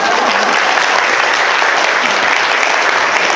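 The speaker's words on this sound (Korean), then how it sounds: "다시 한번 박수 한번" Audience applause fills a meeting hall at a residential redevelopment briefing for apartment owners, a dense, steady wash of many hands clapping, close and loud, with no break for the full stretch.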